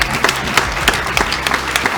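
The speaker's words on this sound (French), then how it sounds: "on l'applaudit bien fort, s'il vous plaît" An audience applauds loudly in a short burst, many hands clapping close by in a quick, uneven rhythm of sharp overlapping claps.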